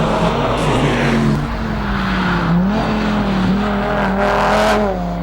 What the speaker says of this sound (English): As we see the RS3 Audi of Oliver Taylor now, making its way around the hairpin